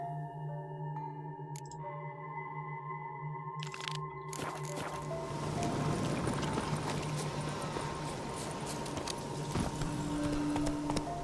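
Hooves of Roach, a horse in the Witcher 3 video game, clip-clop in a steady rhythm, growing fuller and busier midway over a low game-music drone, with no voices.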